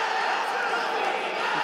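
A boxing arena crowd at a Pan American Games bout roars in a steady, continuous wash of cheering and shouting, loud and sustained without pause.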